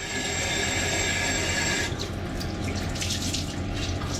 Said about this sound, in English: Lovely hot water.